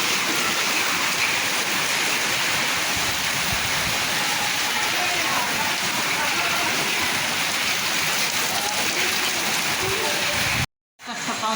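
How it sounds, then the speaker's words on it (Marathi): Heavy rain pours down in Pune, a loud, steady, dense roar of falling water close by that runs without a break until a brief dropout just before the end. "लई जोरात पाऊस चालू आहे"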